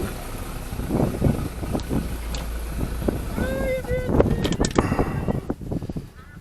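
A cold Mercruiser Alpha One Gen 1 sterndrive boat engine, just remounted with new drive shaft seals, is test fired. A low engine rumble and wind buffeting run under several people talking.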